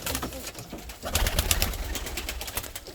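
Pigeons coo in a coop holding fancy breeds such as Uralski, with a continuous low murmur of several birds and soft rustling close by. Faint background voices drift underneath.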